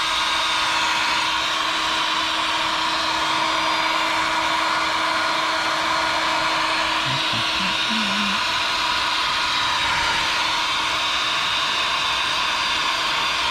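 A heat gun blows steadily on a PL-259 crimp-and-solder connector fitted to RG8X coax, a continuous broadband hiss with a faint hum, running unbroken and fairly close throughout.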